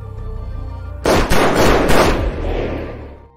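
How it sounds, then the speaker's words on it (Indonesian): After a second of quiet hum, a loud burst of rapid gunfire erupts, several sharp blasts in quick succession that fade into a rumbling echo. "memberondong Edson dengan tembakan."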